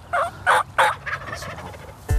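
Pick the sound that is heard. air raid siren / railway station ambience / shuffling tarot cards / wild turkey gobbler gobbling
wild turkey gobbler gobbling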